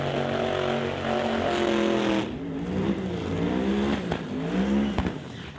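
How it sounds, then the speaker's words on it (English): A twin-turbocharged Pro Mod drag car makes a pass at a drag racing event, a loud sustained engine roar that shifts pitch as it accelerates, heard from trackside without talk. "Twin turbocharged combo for Ryan Griffin, finally making some A to B passes for that car that is very new in the grand schemes of a race car"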